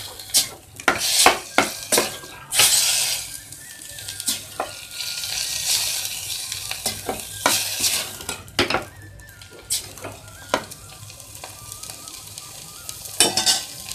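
Bathua greens, garnished with garlic, fry on low heat in a pan while being stirred, giving a continuous sizzle broken by frequent loud clatters and scrapes of the spoon against the metal, close up with no talk.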